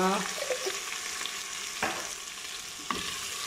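Ginger sizzling and being stirred in hot oil in a pan for a mixed vegetable curry, a steady close frying hiss broken by a few sharp scrapes of the spoon.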